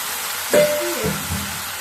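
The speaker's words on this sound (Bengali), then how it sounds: "পেঁয়াজগুলো মোটামুটি ভাজা হয়ে গেছে। এবার আলুগুলো ছেড়ে যা আছে সব একসাথে ছেড়ে দিলাম" Potatoes tipped into a pan of frying onions for a home breakfast, giving a sudden burst of sizzling that then settles into steady frying, with a clatter of stirring and no talk.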